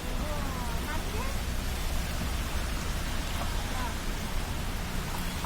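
Heavy rain pours down on a Bengaluru street in a dense, steady hiss that fills the whole stretch, with faint voices beneath it.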